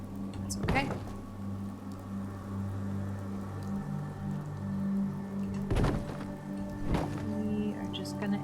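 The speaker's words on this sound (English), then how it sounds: "We are just gonna explore and enjoy the rain" Rain falls in a Fallout 4 settlement-building game, a steady soft patter under a low hum, broken by a few sharp thunks, with talking at times.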